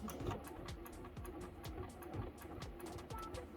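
A sewing machine stitches fabric bunting triangles into a binding strip in a steady, fast, rhythmic whirring chatter, faint and continuous throughout with no speech.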